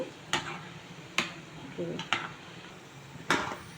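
Gulab jamun balls fry in hot oil in a pan, a steady sizzle running throughout, broken by four sharp clinks of a spoon stirring against the pan, with no talk.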